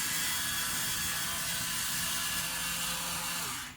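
An apple peeling machine runs steadily, a dense whirring mechanical grind with a faint hum underneath, loud and close throughout before winding down at the very end; no voices.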